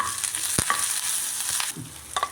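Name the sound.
stirring curry leaves into tempering in a pan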